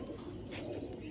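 Pigeons coo in a low, continuous murmur of several birds close by, with no voices.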